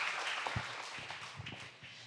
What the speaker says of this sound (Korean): 큰 박수 맞이해 주시기 바랍니다.